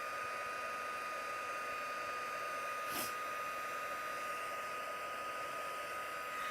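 Heat tool blowing steadily to dry shimmer inkpad ink on a craft surface, a close, even, continuous whoosh of hot air lasting throughout with one brief bump midway.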